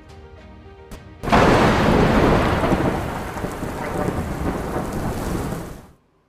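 A heavy thunderstorm over flooded Gujarat: a loud crack of thunder bursts in and rolls on into a steady roar of pouring rain, then cuts off abruptly.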